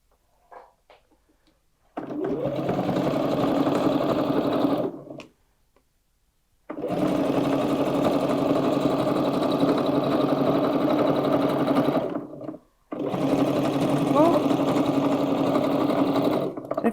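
A sewing machine runs a quarter-inch seam through fabric pieces placed right sides together, whirring steadily and close in three long runs separated by brief pauses, with no talking.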